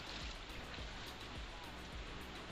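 Rushing water at a waterfall in Mainsigila, Mayurbhanj, fills the clip as a steady, loud, broadband roar with no pauses, heard close and continuous.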